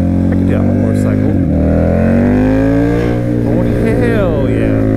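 A motorcycle engine drones steadily while being ridden, with strong low harmonics that rise and fall as the revs shift and a brief dip before climbing again, close and loud throughout.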